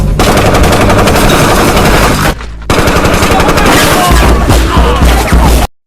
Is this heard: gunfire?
yes